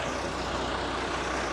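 A bin truck rolls slowly ahead on a street lined with small restaurants, its engine a steady broadband rumble heard from close behind with no talking.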